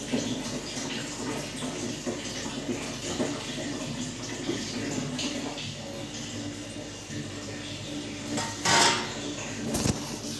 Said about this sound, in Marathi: टाकीत पाणी लावलं होतं बंद करते आता टाकी भरली